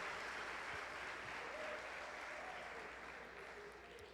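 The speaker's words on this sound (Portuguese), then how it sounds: "as palmas que louvam o Senhor" Steady applause from a church congregation, a dense wash of many hands clapping that holds throughout and fades slightly toward the end, with faint voices mixed in.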